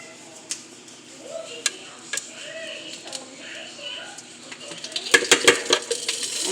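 A metal spoon scrapes and clinks as it scoops soft cooked butternut squash from its skin, giving intermittent taps and scrapes that grow busier toward the end, with a person talking throughout.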